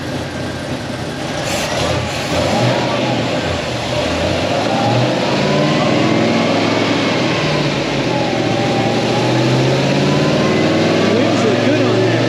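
An LSA supercharged drift car revs hard and loud with the clutch let out to spin the tires, a sustained roaring engine with rising and falling pitch and tire noise, while people talk over it.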